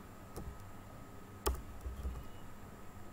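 A few sparse, faint keystrokes on a computer keyboard while a one-time passcode is entered, with soft isolated clicks and one louder tap over low room hiss.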